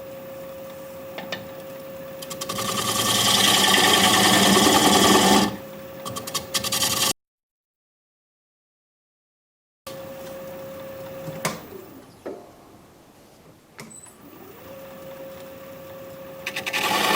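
A wood lathe cuts a dovetail on a spalted maple deep bowl: a steady motor hum under rough, scraping tool noise that swells loud midway, then a sudden silence before the humming and lighter cutting resume.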